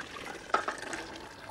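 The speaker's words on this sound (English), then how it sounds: "Now, in with the imperial chickpeas and the water they've been cooked in." Cooked chickpeas and their cooking water pour into a pan in a brief splash followed by soft trickling, close and fairly quiet.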